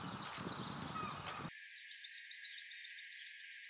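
A palm warbler gives a rapid series of soft, high, evenly spaced tweets, faint and alone against a quiet background.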